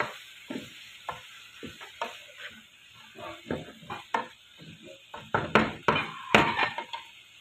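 A spoon scrapes and clatters in a pan while chicken popcorn and corn are stirred and gently sizzle, a string of close, irregular knocks and scrapes growing louder toward the end.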